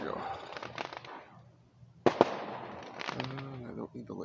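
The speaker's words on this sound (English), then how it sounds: "There's some fireworks." Two sharp Canada Day firework bangs pop in quick succession outdoors, surrounded by people chatting before and after the bursts.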